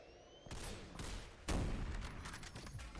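Rapid gunfire from shooting enemies in the video game SYNTHETIK 2, dense overlapping shots forming a continuous fusillade with a sharp louder burst midway, no talking.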